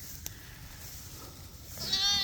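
Sheep and lambs on a small farm, a flock with a newborn ewe lamb, with a clear bleat rising near the end over a low, steady background.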